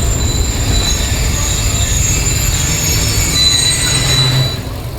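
Trains moving through Khanewal Junction railway station at platform 7, a loud, close, continuous rumble of rolling railway cars with high steady wheel squeal over it, easing off slightly at the end, no voices.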